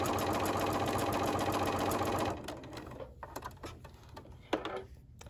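A sewing machine runs steadily for about two seconds, stitching two quilt panel pieces together with a quarter-inch seam at a 2 mm stitch length, then stops and leaves light handling clicks and rustles.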